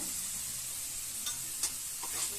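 Potatoes fry in a pan with a steady close sizzle, broken by a few soft scrapes as they are stirred with turmeric while cooking.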